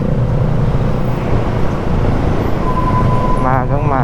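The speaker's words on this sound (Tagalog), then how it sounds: "Grabe, traffic." Heavy morning road traffic in a city street rumbles steadily and loudly, with engine drone and a rising tonal whine near the end, while a person talks over it.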